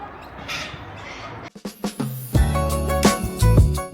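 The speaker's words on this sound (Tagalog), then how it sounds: "Daming ibon." By the Murray River at Echuca, many birds squawk and caw in harsh calls over outdoor background noise, the calls growing louder and busier toward the end.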